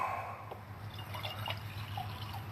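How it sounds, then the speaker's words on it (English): Water trickles and drips faintly while being poured for brewing a pre-prohibition porter, a few soft splashes and drops over quiet background noise. "I need to get some water. Pour that up about half."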